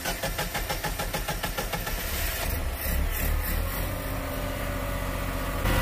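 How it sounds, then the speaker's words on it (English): A boat's generator engine runs aboard a 42-foot Regal, a loud, close, rhythmic mechanical drone that pulses at first and then settles into a steadier, rougher running note, with no talking. "let's turn our generator on and see if we have a charging system in the generator"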